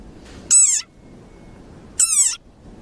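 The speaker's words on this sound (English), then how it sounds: "this is the sonorous war cry of a very angry frog" Two loud, harsh frog calls, each a short buzzing squawk about a third of a second long, spaced about a second and a half apart over quiet background, close and alone.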